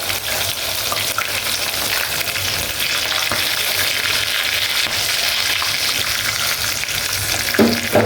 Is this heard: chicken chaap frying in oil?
yes